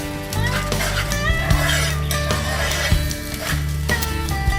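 An egg filling is scrambled in a pan for Omana Pathiri, with steady scraping and stirring of a utensil, light metallic clinks and a faint sizzle over a low continuous hum.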